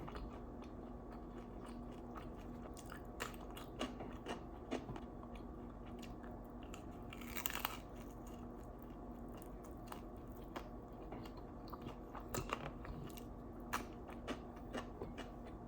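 Close, quiet biting and chewing of a pan-fried kimchi dumpling, with soft squishy and faintly crunchy mouth sounds in an irregular rhythm and a brief louder crunch midway.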